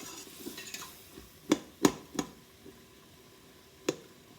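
A spatula pokes into soft cooked vegetables in a pot for chicken and rice soup, giving a few quiet, close metallic taps and scrapes spaced over a few seconds against a faint background.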